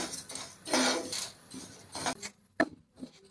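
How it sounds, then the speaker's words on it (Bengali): Mung dal being lightly dry-fried in a pan, stirred with a utensil, giving close scraping and rustling strokes with a few louder knocks near the end. "মুগ ডালটা আগে ভেজে নিচ্ছি একটু হালকা করে ভেজে নিব খুব বেশি ভাজবো না"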